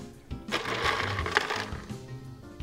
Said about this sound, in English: Now I'm going to add the ice.